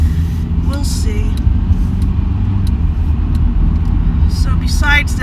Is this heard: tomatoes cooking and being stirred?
no